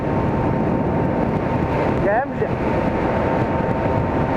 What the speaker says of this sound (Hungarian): De fúj a szél!